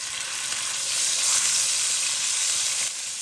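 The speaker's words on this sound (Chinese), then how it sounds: "余热下入肉末" Minced meat hits a hot wok with a little oil and sizzles loudly and steadily up close, a dense unbroken hiss that swells slightly midway, with no voices.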